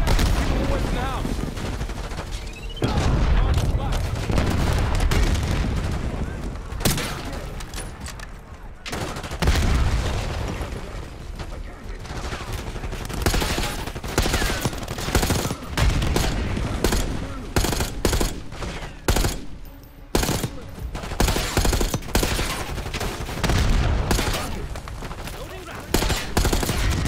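Heavy gunfire and blasts from demolition charges in the Call of Duty: Black Ops 6 mission Harrow, with dense automatic bursts and booming explosions running almost nonstop, loud and close, over shouted voices.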